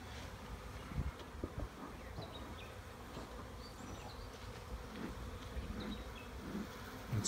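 Honey bees buzz around an open hive during an inspection on Cape Cod. The hum is soft but constant, with individual bees droning in and out close by, and no one speaks.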